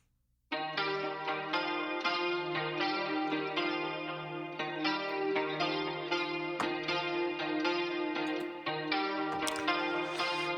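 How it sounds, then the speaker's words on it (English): An electric guitar plays a secondary part in a pop song's pre-chorus, picking a bright, effect-laden repeating line with echo and chorus, starting after a brief silence and continuing steadily throughout. "There's this secondary guitar part that comes in."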